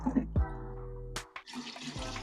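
Rice water poured from a container onto carrot plants, running into the soil and roots, giving a close splashing, trickling pour that starts and stops in bursts while a person talks over it.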